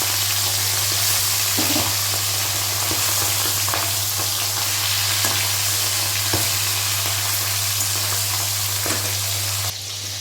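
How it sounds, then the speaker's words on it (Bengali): Pomfret fish frying in a pan, giving a loud, dense, continuous sizzle with a steady low hum beneath it and a few brief spatters, close up and alone throughout. "আর বাকি যে 3টে মাছ আছে সেটাও কিন্তু আমি ভেজে নেব।"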